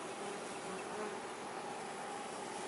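A swarm of kombu honeybees buzzes as the bees are scooped by hand into a hive box, making a dense, continuous, close drone that holds steady throughout.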